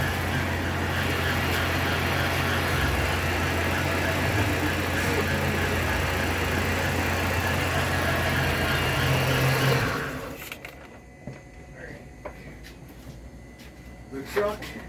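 Truck engine idling steadily and fairly loud for about ten seconds, with a low constant hum, then shutting off and leaving quiet room noise with a few small knocks.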